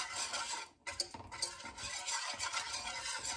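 A spoon stirs Cajun-spiced sauce in a hot pan, giving a steady, close scraping and swishing over a faint sizzle, with one brief pause partway through.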